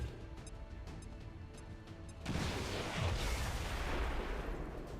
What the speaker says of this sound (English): He's lucky that explosion didn't kill him.